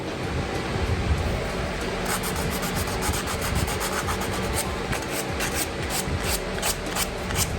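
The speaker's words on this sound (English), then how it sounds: "Plus, dried northern white cedar with simple sandpaper." Sandpaper is rubbed by hand over a dried northern white cedar duck decoy, making a continuous close, rasping scratch with quick rhythmic strokes that grow more distinct partway through.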